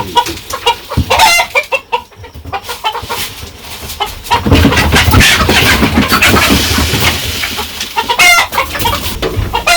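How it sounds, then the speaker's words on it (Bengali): Village hens cluck loudly and continuously after laying eggs, with sharp rapid bursts and rooster-like calls close by, alone without talk. "তো মুরগিতে 3টা ডিম পারছে"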